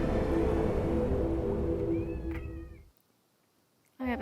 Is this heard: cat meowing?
yes